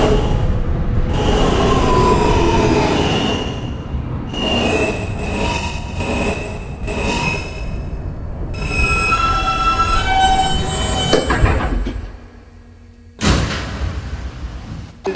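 A New York subway N local train, an R160 car, rumbles and rattles along the tracks with rising and falling tonal whines, ending in a sudden sharp burst of noise.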